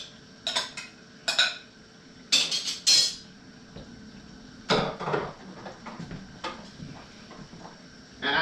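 Chopped red and green bell peppers being scraped into a pot of spicy chili, several clattering bursts of utensil against cookware, some brief and some longer, close and fairly loud, with no voice.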